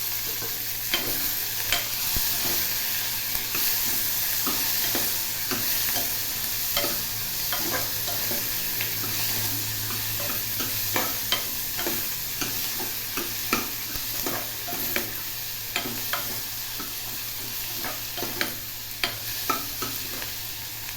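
Curry leaves and garlic fry in hot oil over medium heat, giving a steady, close sizzle broken by repeated scraping and stirring clicks from a utensil against the pan throughout.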